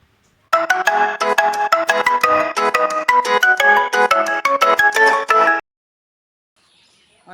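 A mobile phone rings with a bright, rhythmic melodic ringtone for about five seconds while a call is placed, then stops into silence.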